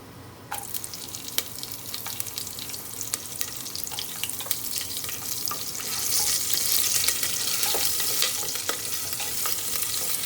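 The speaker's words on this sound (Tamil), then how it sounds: "பச்சை மிளகா நல்லா ஃப்ரை ஆனோன்னா" Green chillies fry in a pan with a constant crackling sizzle punctuated by sharp pops and utensil taps, growing denser and louder partway through, heard close and without talk.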